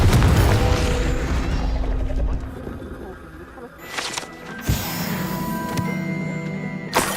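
A Confringo fire spell cast in Hogwarts Legacy bursts with a booming blast over a loud game soundtrack, followed by sharper impact thumps a few seconds later.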